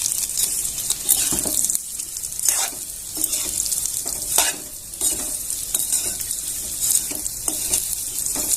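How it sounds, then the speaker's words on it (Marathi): Close, steady sizzle of vermicelli frying in very hot ghee on low heat, broken by repeated scraping stirs of a spoon against the pan. "तूप खूप गरम झालेलं आहे गॅस वाढवायचा नाही त्याच्यातच लगेच आपल्याला शेव घालून द्यायची आहे"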